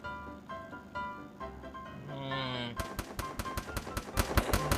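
Rapid bursts of automatic gunfire in the Free Fire mobile battle royale game, coming in a quick repeating string after game music and sound effects.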